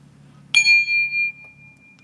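A single meditation bell rings out once with a clear struck tone and rings on for nearly a second before fading, alone over a low background hum with no talking.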